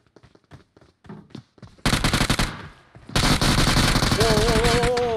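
Loud gunfire erupts in PUBG Mobile: scattered short shots first, then dense rapid automatic bursts and a sustained volley, close and harsh, with a brief tonal sweep near the end.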